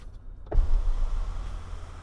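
The motorized moonroof of a 2019 Kia Stinger GT begins opening with a short click, followed by a steady low electric motor hum close by and alone.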